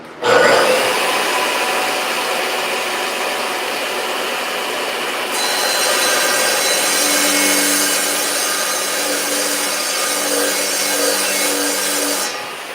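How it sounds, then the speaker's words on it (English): Loud, continuous abrasive rasp of a power tool grinding and shaving the edge of a small wooden piece, close up and steady for the whole stretch, with the pitch shifting partway through. "I'll shave just a hair off this same piece that keeps the magnet."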